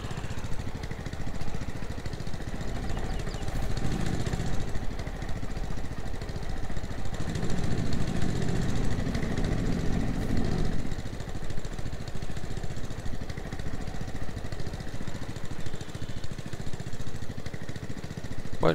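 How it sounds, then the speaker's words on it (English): A vehicle engine idles in Farming Simulator 22 on the Lapacho Farm map, a steady, rough, mid-pitched drone that runs unbroken throughout with slight swells in intensity. "I think we will switch the engine off."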